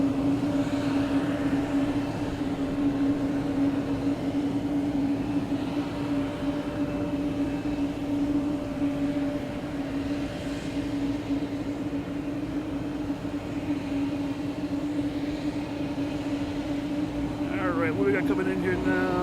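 Jet airliners around Boston Logan Airport, with a continuous loud engine roar and steady drone throughout, a rising whine near the end.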